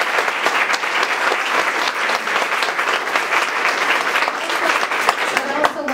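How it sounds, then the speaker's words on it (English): Sustained audience applause at an anniversary celebration honoring a list of long-serving teachers; dense, steady clapping from many hands throughout, fairly loud and even, with faint crowd murmur beneath. "I'd like to have you applaud."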